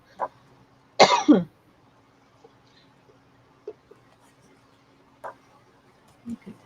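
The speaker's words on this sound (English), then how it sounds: "I don't envy you that cough." A single loud, close cough bursts out once in a quiet room, followed by faint scattered clicks and small handling noises.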